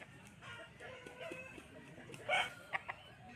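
A rooster of about three kilos, roughly a year and a half old, crows once loudly and briefly amid the background hum of a rural poultry market, Feko Haat in Jhargram, West Bengal, with a couple of short calls following.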